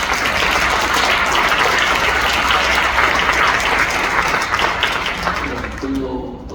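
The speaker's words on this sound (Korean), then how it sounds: "우리 크게 한번 박수 한번 쳐주세요" A congregation applauds at a church mission society's inauguration ceremony, with dense, steady clapping that holds loud throughout and then thins out as a voice begins speaking at the very end.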